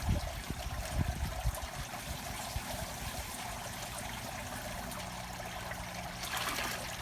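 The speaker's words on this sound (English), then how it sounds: "I'll just drain the majority of the water out." Water drains out of a large stock tank set up for turtles, a steady close trickle and gurgle with some bubbling splashes early on, continuing evenly at low level.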